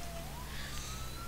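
Police siren from a new siren pack in the LSPDFR police game, a thin wailing tone rising steadily in pitch, heard faintly behind a constant drone of game ambience.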